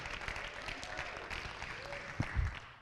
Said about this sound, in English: a well-deserved round of applause for these principals and their growth